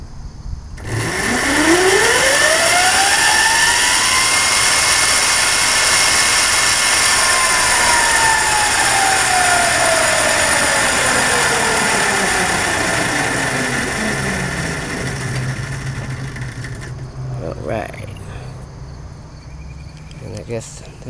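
An Ariel Atom go kart engine runs hard in high gear, a loud, sustained whine whose pitch climbs, holds and then slides back down over about fifteen seconds before easing off near the end.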